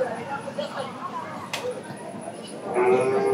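Cattle at a busy Bangladeshi cow market, with lowing moos rising over a dense crowd murmur and nearby talk, a longer low call near the end.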